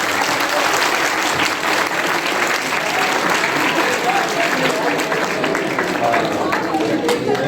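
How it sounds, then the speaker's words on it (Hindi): Sustained audience applause fills a mushaira poetry recital hall at COMSATS University Islamabad, dense steady clapping at an even loudness throughout, with a voice faintly present beneath it. "आप अपने लिए तालियां बजाइए"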